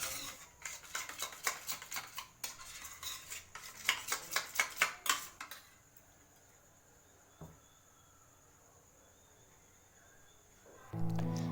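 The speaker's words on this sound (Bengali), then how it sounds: "আমি জল ঝরাতে রাখা টক দইটিকে ভালোভাবে ফেটিয়ে নেব" A whisk or spoon beats strained sour curd in a bowl for milk-sweetened misti doi, giving quick rhythmic clinks and scrapes for about five seconds before stopping into near silence.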